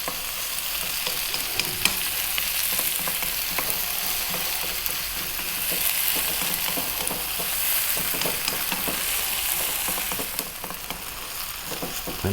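Chopped onion and garlic frying in a pan, a dense steady sizzle with scattered crackles and occasional stirring scrapes, close and continuous.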